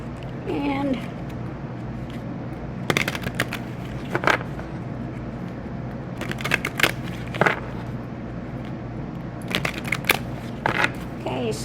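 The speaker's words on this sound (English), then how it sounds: "Give me a good ruffle shuffle here." Tarot cards from the Unfolding Path deck being riffle shuffled, several short crisp bursts of fluttering card noise spaced through the passage, mostly under and between a person speaking.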